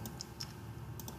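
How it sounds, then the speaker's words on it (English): A password is typed by hand on a computer keyboard, with a few soft, quick key clicks spaced irregularly over a faint steady background hum. "It won't let you copy and paste, so I'm just going to have to type this by hand."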